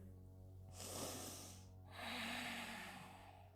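Two slow, deep breaths during a morning yoga session on a mat, an inhale then an exhale, each a soft airy rush heard up close in a quiet room.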